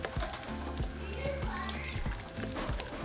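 Thin milanesas sizzle and fry in hot oil, a faint continuous crackle with small repeated pops and stirring taps throughout.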